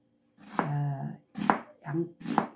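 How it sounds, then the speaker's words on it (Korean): A knife chops onion on a board for green onion kimchi seasoning, four distinct close cuts spaced unevenly, each with a short ringing thud. "양파를 갈리기 좋게 이렇게 썰어서 넣겠습니다"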